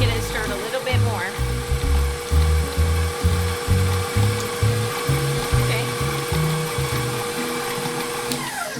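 An electric hand mixer stirs chocolate chip cookie dough in a home kitchen, its motor whirring steadily in uneven pulses as the beaters work the thick dough, loud and close throughout.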